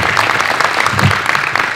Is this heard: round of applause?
yes